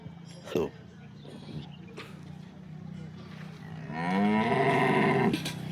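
A cow moos loudly nearby, a long low bellowing call with rising harmonics near the end, preceded by a few brief background sounds. The cow is in milk, about ten to twelve days after calving in its second lactation.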